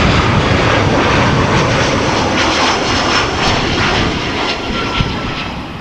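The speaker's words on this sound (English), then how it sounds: "Air Europa arriving from Madrid." An Air Europa Boeing 787 Dreamliner arriving from Madrid at Amsterdam Schiphol Airport gives a loud, sustained jet roar that stays close and steady throughout.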